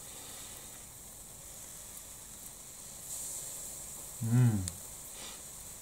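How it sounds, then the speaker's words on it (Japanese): Nemagari-take bamboo shoots grill over charcoal with a faint, continuous sizzling hiss as moisture heats inside, and a brief murmur of a voice rises midway. "中で水分がこう熱せられてさ、ジュージュージュージューってさ"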